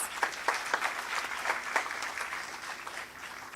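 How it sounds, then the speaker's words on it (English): An audience at a corporate event applauds steadily for a few seconds, a dense wash of many hands clapping that fades slightly toward the end, with no voices over it. "Huge round of applause, please."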